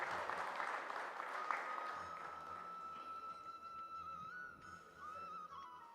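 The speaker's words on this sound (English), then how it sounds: "A big round of applause for all the achievers." A crowd applauds achievers at a Legal Services Day event in a High Court hall, a full burst of clapping that thins and fades as a steady tone and quiet murmurs take over.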